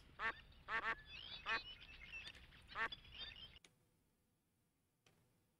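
Cartoonish duck quacks from the Barbie Race and Ride video game, a few short bursts in quick succession over a steady game background, then near silence with one faint blip at the end.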